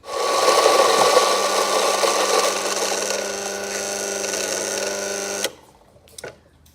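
A Rocky coffee grinder set to 5 grinds about 19 grams of espresso beans with a loud, steady whirring drone for roughly five seconds, then cuts off abruptly, leaving a few faint clicks and rattles.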